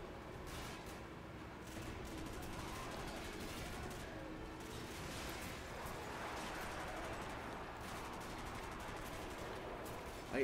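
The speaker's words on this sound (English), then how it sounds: "I want to shoot the driver." Gunfire in Call of Duty 4: Modern Warfare crackles in quick, dense bursts over a continuous battle din, fairly faint and steady throughout.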